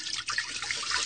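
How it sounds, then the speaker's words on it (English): Water poured into a pot of chili with kidney beans, red beans and sauce, a brief close splashing trickle with no talking. "I even like to get a little extra water in there."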